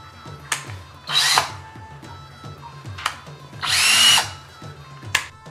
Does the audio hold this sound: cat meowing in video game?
no